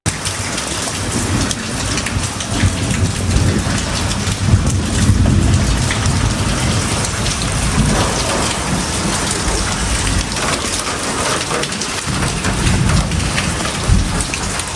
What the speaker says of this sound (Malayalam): ഇപ്പോൾ അതേ പുറത്ത് നല്ല സൂപ്പർ മഴയാണ് കേട്ടോ